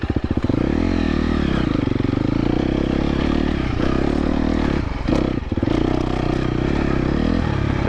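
A KTM 250 XC-F dirt bike on desert trails roars close by with a loud, buzzing four-stroke engine note that rises and falls with throttle, plus brief clatter and scraping, continuous and without talk.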